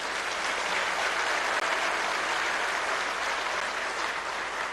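Sustained applause fills a university convocation hall, even and continuous throughout, a large audience clapping steadily without pause or speech.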